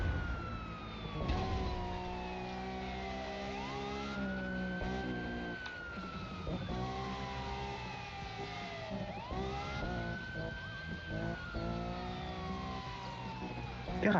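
Police car siren wailing in a driving video game, rising and falling in repeated sweeps over a low engine drone, with a second siren tone overlapping at times.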